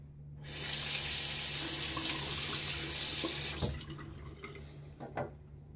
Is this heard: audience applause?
no